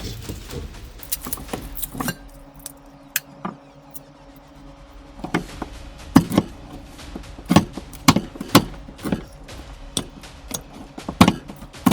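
Beef fat being cut into pieces with a knife for rendering tallow, irregular close knocks and chops against a cutting board, sparse at first and then coming in quicker bursts.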